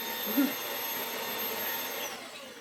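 A Hoover HFX vacuum cleaner running in a home, giving a steady, loud, close whooshing hum with a high whine that holds throughout and fades a little at the end.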